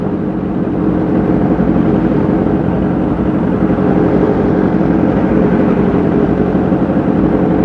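A group of motorcycles riding together on the road, a loud continuous engine drone with rumble and wind noise throughout, no talking.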